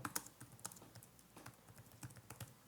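Soft, quick clicks of typing on a computer keyboard come in an irregular patter of faint taps, with no speech over them.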